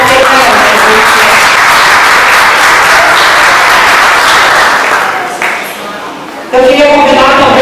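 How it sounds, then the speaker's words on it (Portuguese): An audience at a business association event in Cabo Frio gives a loud, dense, sustained round of applause, briefly dipping before rising again, with voices audible near the end. "Uma salva de palmas para ele."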